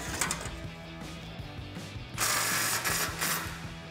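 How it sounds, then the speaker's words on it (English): A ratchet with a 15 mm socket clicks in quick repeated bursts while tightening an exhaust clamp on a 1999-2004 Mustang GT cat-back system, close and fairly quiet with short pauses between strokes. "grab a 15 socket and tighten down that clamp"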